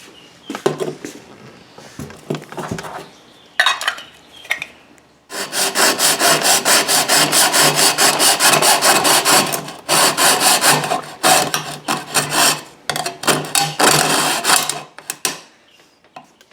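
A hacksaw cuts through a homemade hole-cutting tool for landscape fabric in a fast run of rasping back-and-forth strokes, close and loud, after a few scattered knocks and scrapes.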